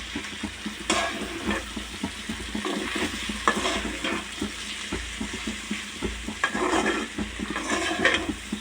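Bitter gourd and potato stir-fry frying in oil, a continuous close sizzle with intermittent scraping and stirring strokes of a utensil against the pan.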